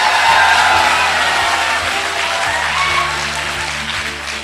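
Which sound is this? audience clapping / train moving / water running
audience clapping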